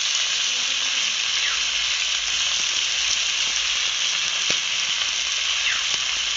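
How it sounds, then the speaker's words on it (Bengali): Chopped onion hits hot mustard oil tempered with dried red chillies and nigella seeds, giving a loud, steady, even sizzle that holds unbroken throughout, with faint scattered crackles and spatters. "ফোড়ন হয়ে গেলে দিয়ে দিচ্ছি পেঁয়াজ কাটা"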